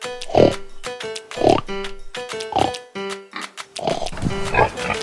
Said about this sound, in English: Can you help me find the pig?